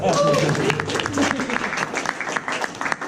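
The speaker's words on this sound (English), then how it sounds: "Can we get one more round of applause for our note taker, Alex?" A room full of people at a roundtable discussion applauding steadily, dense clapping that holds for a few seconds and slowly thins out toward the end.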